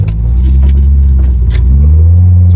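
A 1992 Honda Accord Maestro with PGMFI fuel injection accelerates, its engine giving a loud, close, deep rumble that rises steadily in pitch, with no voices over it.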